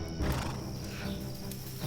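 Horse neighing in the video game Chains of Satinav, a moderately loud whinny over ambient game background with faint hoof-like clopping.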